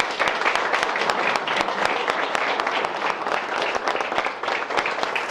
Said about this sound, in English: first of all, clap for yourself, guys.